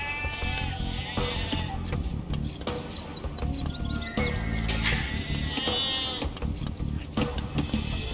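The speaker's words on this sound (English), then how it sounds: "villagers can herd sheep or hunt deer for food" Sheep bleating in the Age of Empires II video game, several wavering bleats in succession over a steady background of game ambience and faint bird chirps.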